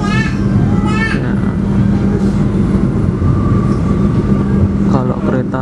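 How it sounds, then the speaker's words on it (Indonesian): Argo Lawu passenger train rolling slowly straight through Cikampek station, a steady loud rumble of wheels and carriage noise with a brief squeal, heard from onboard under intermittent talk. "Pukul 15:07 kereta Argo Lawu sudah melintas langsung di stasiun Cikampek"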